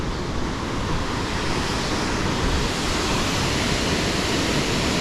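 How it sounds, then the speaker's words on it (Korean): A mountain waterfall swollen and powerful after days of heavy rain roars in a steady, dense rush of water, loud and unbroken throughout, with no voices. "계속 비가 많이 오는 시기여서 폭포물이 아주 힘이 있습니다."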